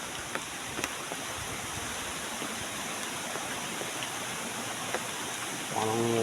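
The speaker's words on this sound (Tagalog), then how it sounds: "Guys, malapit tayo sa ilog." River flowing nearby, a faint steady broadband rush of water along a slippery riverside path, continuous and even, with a brief rise at the end and no clear talk.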